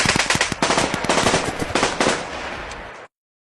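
Paintball guns firing in rapid bursts inside a retail shop, a dense clatter of sharp popping shots for about three seconds, loud and close, then cutting off.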